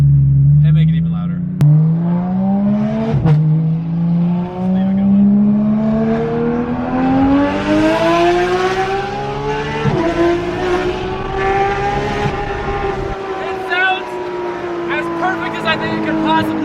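A Porsche GT3 RS with straight-piped exhaust and Dundon Inconel center muffler delete, revving close by with rising engine pitch that climbs, dips between gear shifts and climbs again, loud and continuous.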